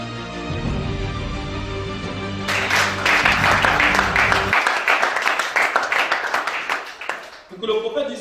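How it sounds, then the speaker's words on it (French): A church congregation breaks into loud, dense applause partway through while a preacher keeps talking over music, and the clapping tapers into scattered claps. "Acclame chacun. Acclame bien."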